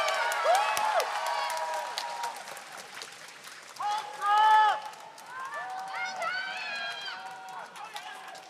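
A Hong Kong crowd at the Rubik's Cube WCA World Championship 2023 in Incheon cheers and claps in a loud, sustained roar, with a commentator talking over it.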